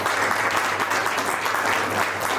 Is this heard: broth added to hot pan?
no